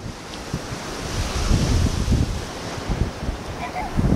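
Ocean waves break and wash up on the shore in a steady roar, loud and close, with heavy wind buffeting the microphone and faint voices in the background.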